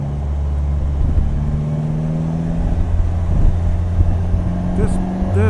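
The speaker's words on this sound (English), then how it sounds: "the revs drops a little too fast for my liking" A 2018 Polaris Slingshot SL engine hums steadily up close, with a slight rise in revs partway through before the note settles again.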